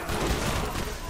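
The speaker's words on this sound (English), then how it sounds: "Dude, it's an explosive weapon." Explosive weapon firing in Borderlands, a dense, continuous barrage of loud booming blasts and crackling bursts that runs throughout without pause.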